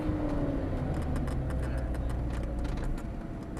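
Lamborghini Gallardo supercar slowing hard under braking through a line of cones, its engine a steady close rumble whose pitch sweeps downward as speed bleeds off, with faint ticking over the top and a slight drop in level near the end.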